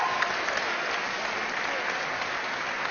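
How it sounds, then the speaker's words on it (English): Boxing fight fans in the crowd applauding warmly, a dense, even patter of clapping that holds steady throughout at moderate volume. "warmly applauded by the fight fans"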